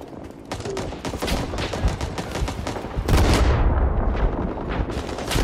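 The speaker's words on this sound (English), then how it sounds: "Yo, I got hit by a grenade," Grenade explosions and dense gunfire in the Rising Storm 2: Vietnam shooter game, with continuous rapid shots and a heavy nearby blast partway through, loud and chaotic throughout.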